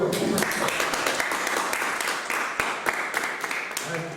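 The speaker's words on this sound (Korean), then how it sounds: "박수 한번 쳐야 또." An audience at a maritime university lecture forum claps in a dense, steady round of applause lasting several seconds, with a few voices mixed in.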